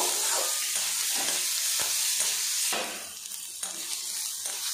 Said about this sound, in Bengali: রসুনটা কিছুক্ষণ ভাজা ভাজা করে নেব।